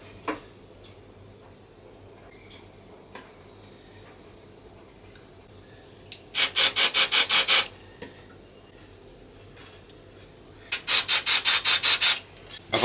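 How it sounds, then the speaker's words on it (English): Veneer on an Art Deco vanity is sanded by hand in two loud, rapid bursts of brisk back-and-forth rubbing, each lasting over a second, with quiet workshop stillness before and between them. "Nearly finished with the sanding now."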